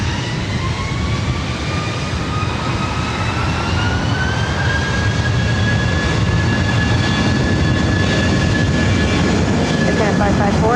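A JetBlue airliner takes off from runway 24 right at LAX, its jet engines producing a steady, loud roar with a rising whine throughout, heard alone without talk.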